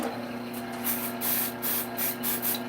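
Hissing bursts of spray from an aerosol can, about five short pulses in a row over a steady mechanical hum.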